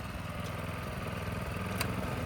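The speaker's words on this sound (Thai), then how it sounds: "นี่คือพวนรอบเร็วนะคะ รอบจีเลยค่ะ นี่ขนาดยังไม่ค่อยได้เร่งเครื่องนะคะ" A narrow-row tiller cultivator's small engine runs fast at high revs, a steady, loud, continuous drone with a rough mechanical rattle, close by and with no voices.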